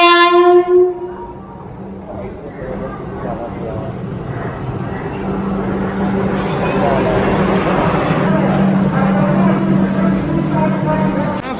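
The saffron-coloured Howrah–Patna Vande Bharat Express sounds a loud horn blast at the start, then rushes past with a growing, sustained roar of wheels and carriages as a voice talks over it.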